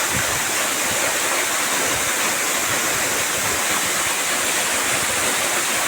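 A waterfall spills down from above in a continuous, dense roar of rushing water, steady and close throughout with no voices.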